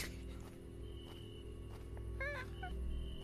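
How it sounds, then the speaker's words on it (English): A short chirping video game bird call rises faintly over a steady low rumble, with a couple of quick trilled notes. "That's the bird noise."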